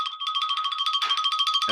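A mobile phone ringtone interrupts an interview, chiming loudly and close with a rapid, repeating two-tone electronic pattern that pulses steadily for nearly two seconds.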